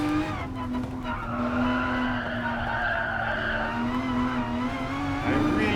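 Race car tires squeal and skid under hard late braking into a corner in Gran Turismo Sport, a long sustained screech over the engine drone, loud and continuous for several seconds.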